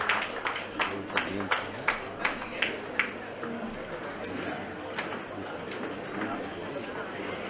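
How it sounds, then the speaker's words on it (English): Audience applause greets Venkaiah Naidu as he is welcomed to the podium at a GTU School of Smart Cities Development event, with a run of sharp, close claps over the first three seconds before it fades into a murmuring hall. "Please give a big round of applause to Naidu sir and welcome him to the podium."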